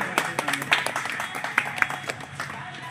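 Audience at a district YouTubers' gathering clapping on request, scattered uneven claps with distinct sharp hits rather than a unified roar, fairly close and moderate in level.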